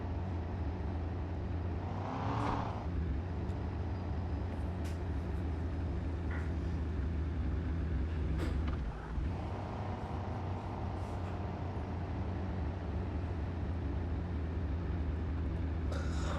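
A car engine hums steadily in a driving simulator game as the vehicle approaches a town, with a continuous low drone, a few swelling passes and short clicks over about sixteen seconds, no talking.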